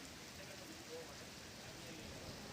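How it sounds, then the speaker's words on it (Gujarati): Rain falls across the city of Ahmedabad, a faint, distant, even hiss of steady rainfall with no distinct drops standing out. "અમદાવાદના અલગ અલગ તમામ વિસ્તારોમાં વરસાદ વરસી રહ્યો"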